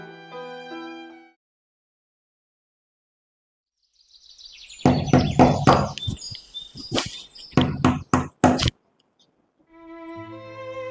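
Knocking on a door, a burst of loud, uneven raps and thuds in two clusters between stretches of quiet, with faint music-like tones at the start and end.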